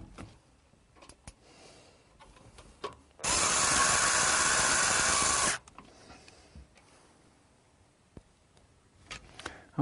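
A power screwdriver or drill runs in one continuous burst of about two seconds, driving screws to secure a power supply inside a computer case, with quiet handling clicks before and after.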